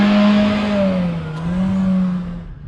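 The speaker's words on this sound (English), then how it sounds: "Here is how awful this car sounds." A car engine revs loud and close, a steady droning whine that rises and falls before easing off at the end, with no talking.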